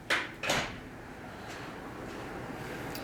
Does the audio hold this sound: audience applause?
no